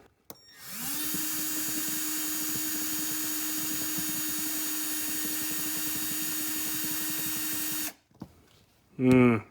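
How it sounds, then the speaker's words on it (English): A power drill bores out the rivets of a Mercury Force 90 marine starter solenoid, running as one loud, steady whine for about seven seconds before it stops, followed by brief clatter and a short voice. "we're just going to have to drill out these rivets here"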